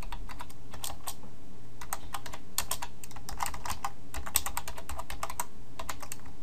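A computer keyboard is typed on in quick, irregular bursts of close, crisp key clicks, with brief pauses between runs over a quiet room background and no talking.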